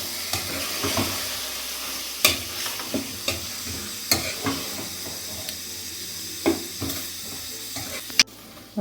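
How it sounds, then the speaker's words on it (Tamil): Yogurt stirred into chicken biryani masala in a sizzling pan, a steady frying hiss with repeated sharp spoon scrapes and knocks against the pan, close by with no voices. "சேர்த்துட்டு மிக்ஸ் பண்ணி விட்டு ஒரு 1 நிமிஷத்துக்கு அப்படியே வைங்க."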